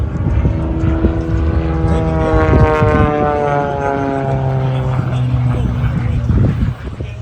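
A Beechcraft F-33C Bonanza flying aerobatics at an airshow drones steadily with a loud, continuous propeller-engine tone whose pitch slowly slides, carrying across the whole stretch with crowd and commentary noise mixed in.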